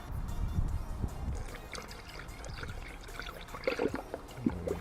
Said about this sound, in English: now it's time to put the radiator flush